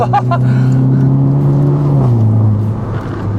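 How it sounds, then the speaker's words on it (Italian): Alfa Romeo MiTo Quadrifoglio with a turbo engine accelerating, a loud, steady engine drone rising slightly in pitch from inside the car, with no talk. "ha quel minimo di turbo lag all'inizio"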